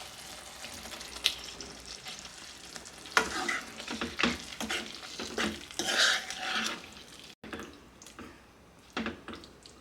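Capsicum and onion stirred and cooked in a pan for a restaurant-style capsicum curry, with irregular scraping and clattering strokes over a steady sizzle, a short pause near the end, close by and with no voices.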